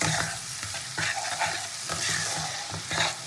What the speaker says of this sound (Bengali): পেঁয়াজ আর টমেটোটা খুব ভালো করে ভেজে নেবো।